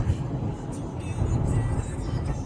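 A 2015 Nissan Murano S accelerates hard along a road, heard from inside the cabin as a steady, muffled engine and road rumble that swells slightly partway through.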